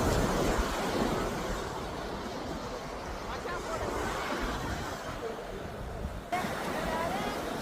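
Sea waves wash continuously on a crowded Odisha beach, a broad roar of surf mixed with wind buffeting the microphone and distant crowd babble.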